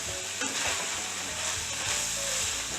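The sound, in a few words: flour being stirred and cooked in a frying pan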